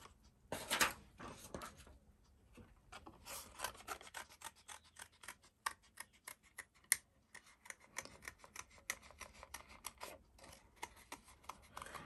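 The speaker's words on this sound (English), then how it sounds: "And we'll just cut those circles out." Scissors cutting out stamped paper circles for a collage card, a series of quiet crisp snips and rasping paper cuts in an irregular rhythm, close and faint.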